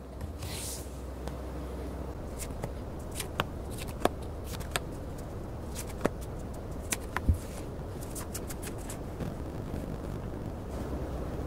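Tarot cards are shuffled and drawn close up, with soft continuous riffling and scattered sharp flicks and taps as individual cards snap down, quiet and steady throughout.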